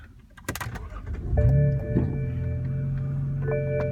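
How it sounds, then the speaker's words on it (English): A BMW E90/E60 M3 or M5 starts up: a short crank and then the engine catching with a loud rising flare, which settles into a steady idle hum. A faint electronic whine runs alongside. "Now what you want to do now is turn your car on."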